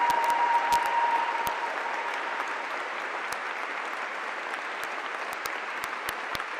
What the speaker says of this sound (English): Morons clapping